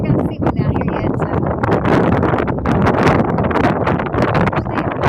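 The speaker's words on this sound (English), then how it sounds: "Hope it's not too windy." Wind gusts across a boat launch dock in Kenai, Alaska, at sunset, making a steady, loud rumbling buffet against the microphone throughout, with a voice faintly under it.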